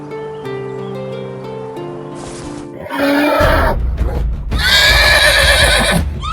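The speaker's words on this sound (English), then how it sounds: "The horse made loud noise" A horse gives a loud, close whinny that rises and trembles, with more neighing following over a noisy backdrop after a brief tonal musical passage.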